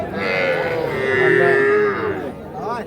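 A close, loud, drawn-out moo from a calf at a cattle market, with a second shorter call at the end and a busy hum of people behind.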